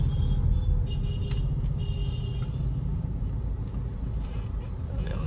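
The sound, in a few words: heavy road traffic in Kharghar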